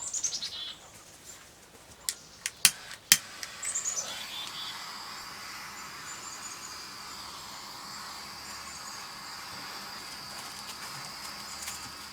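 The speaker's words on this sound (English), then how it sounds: "You may hear some birds in the background." Several small birds chirp and tweet faintly in the background, a few quick high calls early on, then softer distant song fading to quiet room tone; a couple of sharp clicks stand out near the start.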